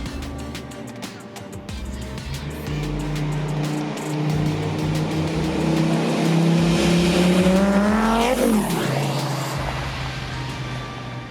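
Dodge Viper ACR engine rumbling loudly through several rev changes, then a fast sweep of pitch as the car passes close by.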